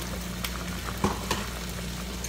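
A low, steady sizzle of yellow and red bell peppers frying in a pan, with a couple of soft clinks and stirring sounds over a constant hum.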